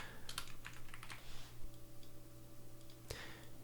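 Keys clatter on a computer keyboard as form fields in a safety app are filled in, a quiet, quick burst of clicks followed by a pause and one last tap over a faint steady hum.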